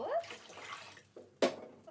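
Water poured by the glassful into a cooking pot over a fried mixture, a brief close splashing pour with a short voice at the start and another burst of pouring near the end.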